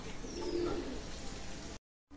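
Soft, low pigeon coos repeating nearby over a quiet background hum, ending in a sudden cut to silence.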